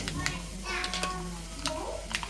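Mustard seeds crackle and pop in hot coconut oil while tempering, with scattered sharp pops over a soft sizzle at close range and some faint voices in the background.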